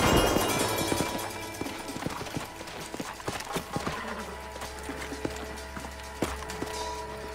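Horses in the Red Dead Redemption video game trot with clip-clop hoofbeats and then slow to a stop, with a steady game soundtrack and effects running underneath.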